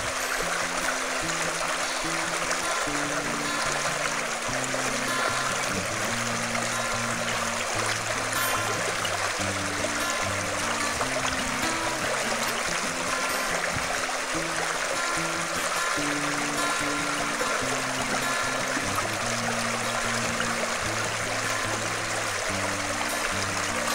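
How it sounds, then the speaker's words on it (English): A creek swollen from overnight rain rushes past a raised-bed garden, a steady, dense wash of flowing water that continues unbroken throughout, close and fairly loud, with no voices. "I thought maybe everybody might just enjoy a little soothing creek music."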